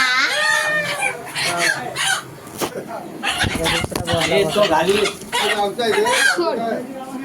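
A rooster crows loudly several times nearby, with clucking hens and people talking and laughing in the background.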